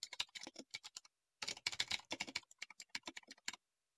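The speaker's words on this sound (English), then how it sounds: "Click into the lookup address field and start typing." Fingers typing on a computer keyboard into an address field, a close, quiet run of quick key clicks in two bursts separated by a short pause, with no talk.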